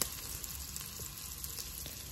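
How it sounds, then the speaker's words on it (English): Food sizzles in a frying pan as it is stirred, a steady, faint crackling hiss with small scraping ticks from the stirring, and no talk over it. "Stir it"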